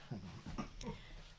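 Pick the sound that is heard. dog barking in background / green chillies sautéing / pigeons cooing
dog barking in background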